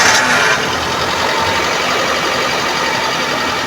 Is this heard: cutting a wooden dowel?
no